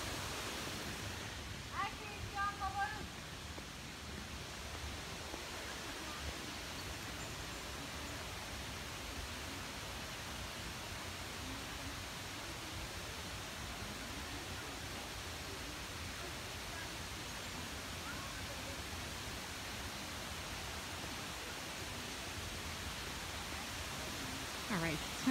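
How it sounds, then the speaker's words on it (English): A small waterfall below a castle on a hill gives a steady broadband rush of falling water, constant and moderately distant, with a brief knock early on. "This little waterfall down here."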